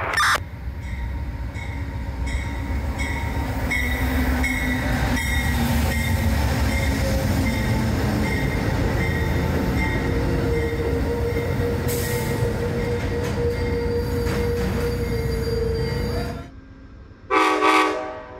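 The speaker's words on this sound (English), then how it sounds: "Alright, well I hear our train coming" An Amtrak train rumbles steadily closer with squealing wheels and clattering cars, loud and continuous, then cuts off abruptly near the end.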